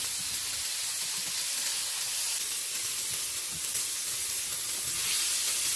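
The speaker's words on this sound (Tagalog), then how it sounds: "tsaka natin i-fry dito sa ating mainit na mantika. I-fry lang natin ito until mag-golden brown" Fish fillet coated in flour and cornstarch frying in hot oil, giving a steady, close, bright sizzle and hiss that carries on evenly without any talk.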